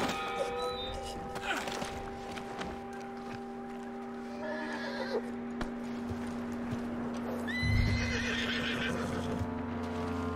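A horse in the Red Dead Redemption 2 video game neighs and whinnies loudly, with clip-clopping hooves and a steady game soundscape underneath.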